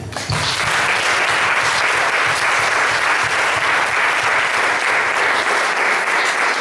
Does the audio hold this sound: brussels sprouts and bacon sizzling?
no